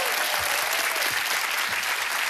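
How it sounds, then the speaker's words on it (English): A television studio audience on a football quiz show breaks into loud, full applause, a thick continuous roar of clapping close up that holds steady without talk. "Will you give him a round of applause, please?"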